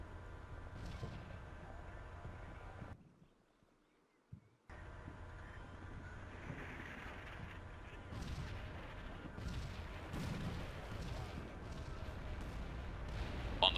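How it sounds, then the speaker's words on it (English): Mortar fire in the Combat Mission Black Sea video game lands on a forward Javelin team, heard as low rumbling blasts and booming impacts over a continuous battlefield din, with a sudden silent gap partway through. "Once again, the forward Javelin team is under mortar fire."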